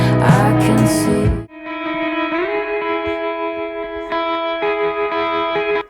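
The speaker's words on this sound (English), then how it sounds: "It's got fast tremolo on it, it's got some reverb and some tape echo" A produced track passes from a dense distorted full-band burst into sustained reverberant tones shimmering with fast tremolo, reverb and tape echo, moderately loud, without any voice.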